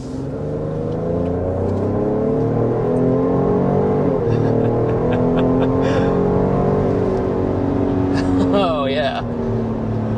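The 3-liter twin-turbo V6 of a 2025 Ford Explorer, rated at 400 horsepower, hums loudly as it accelerates, its engine tone climbing steadily in pitch. A voice briefly speaks over it.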